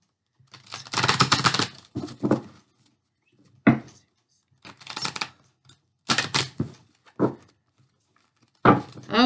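Several short bursts of crisp tarot card shuffling and riffling, close by, separated by brief pauses, with a few sharp taps and clicks between them.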